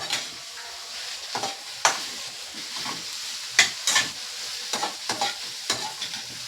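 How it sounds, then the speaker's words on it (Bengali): Onions frying in a hot pan for soybean fried rice, a steady sizzle broken by repeated sharp scraping stirs of a spatula, close and fairly loud with no talking. "আমি আগে পেঁয়াজ আর এগুলো ভেজে নেব।"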